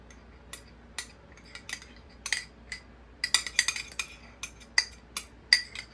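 Raspberry puree beaten into stiffly whipped cream for a white chocolate mousse cake, a quiet series of irregular metallic clinks and scrapes of a utensil against the bowl.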